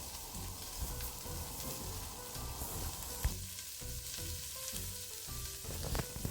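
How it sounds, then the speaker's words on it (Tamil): Chopped onions fry gently on low heat in oil for a quail curry, a close, continuous crackling sizzle with occasional soft stirring knocks and no speech. "இலகுவான சூட்டில் வச்சு மெதுவாக வதக்குங்க."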